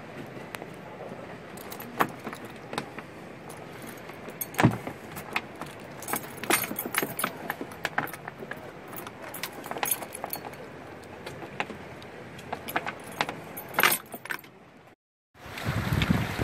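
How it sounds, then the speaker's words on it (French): Keys jangle and scrape as they are worked free of a door lock cylinder aboard a Dragonfly DF1000 sailboat, a long run of close metallic clinks and rattles broken by brief pauses and ending after a short silence. "Parfois, la porte empêche de retirer les clés. Il faut appuyer sur le barillet et tirer en même temps."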